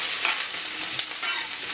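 Sweet peppers, onions, scallion and garlic sautéing in olive oil, a loud, steady, close sizzle with light stirring scrapes and no voices.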